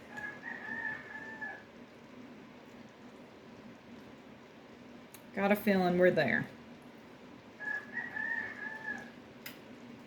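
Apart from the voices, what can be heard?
roosters crowing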